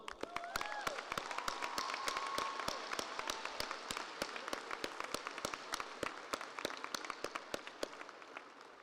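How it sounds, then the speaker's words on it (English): A high school graduation crowd claps and applauds, dense at first, then thins into scattered individual claps before fading out. "Can we get a round of applause?"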